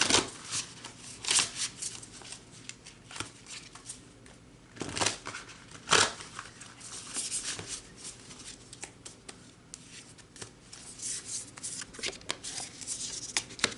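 Large tarot cards are shuffled by hand, giving repeated crisp riffles and flicks in irregular bursts, fairly close and alone with no talk.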